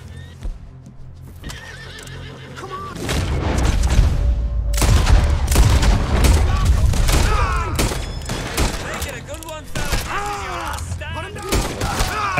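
Gunfire in the video game Red Dead Redemption 2 during a horseback ride, with scattered loud shots and crashes mixed with galloping hooves and repeated horse whinnies, all busy and close.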